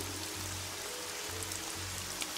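Steady hiss of rain pouring down in the video game Evoland II, a dense constant wash of falling water with faint droplet patter and a low repeating background hum, no talking.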